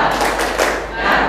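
A group claps together in a rhythmic chant at an Indonesian youth organisation training session in an orphanage, loud, dense and close, with voices mixed in.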